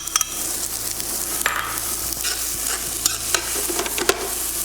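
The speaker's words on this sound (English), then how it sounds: "So we're just gonna go in with our butter first. All right, so we're gonna go in with our onions." Onions frying in butter in a titanium pan, a steady broadband sizzle running throughout with occasional sharper crackles and stirring scrapes, close and moderately loud, with no talking.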